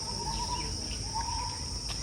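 Outdoors on a quiet walk, faint bird chirps come and go over a steady high insect-like drone and low ambient rumble, with no talking.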